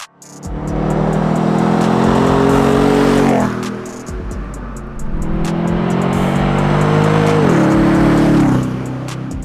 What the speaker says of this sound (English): This exhaust not only sounds deep and throaty, but it's refined when you want it to be.